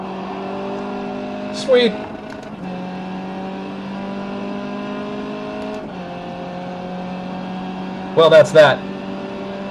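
Race car engine at the Nürburgring GP circuit in iRacing, a steady droning engine note with stepped gear shifts, under a man's speech and brief voice bursts.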